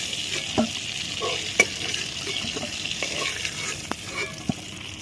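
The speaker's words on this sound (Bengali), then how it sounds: "আমরা একসঙ্গে সব ভাজবো না, 2-4টা করে ভাজবো" Stuffed pointed gourd (potol) frying a few at a time in a pan, with a soft steady sizzle and occasional light scrapes and taps close by.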